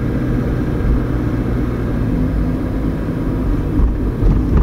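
A car drives along a road toward a small German town, heard from inside as a steady low engine and road rumble with tire noise at constant loudness and no voices.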